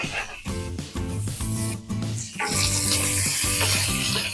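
Bacon sizzles steadily in a pan as its fat renders out, a continuous crackling hiss that grows fuller and louder partway through, with harmonic tones from background music underneath.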